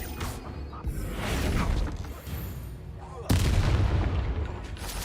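Confringo blasting spells in the Hogwarts Legacy video game, a run of loud booming blasts and crashes. A heavy burst lands near the middle, with shouted voices amid the combat noise.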